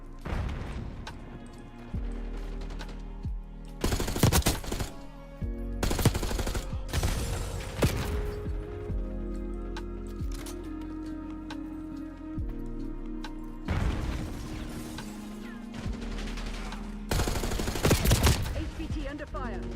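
Gunfire in the video game Black Ops 6: sharp bursts of automatic fire come in several clusters between steadier stretches of game music and effects, loud and punchy, with scattered single shots in the gaps.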